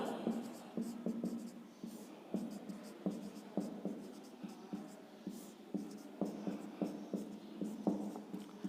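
A teacher's pen scratching out a circular letter on paper in a classroom, with steady, close strokes and short pauses in an irregular rhythm, heard alone.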